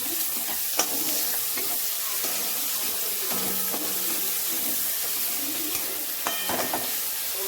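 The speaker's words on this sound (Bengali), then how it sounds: "এবার এবার আমরা নাড়িয়ে চাড়িয়ে নেবো।" Ginger-garlic paste frying and being stirred in a pan for a prawn curry, a steady close sizzle with occasional scraping stir strokes and light clinks over about seven seconds, no voices.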